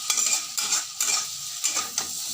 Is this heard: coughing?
no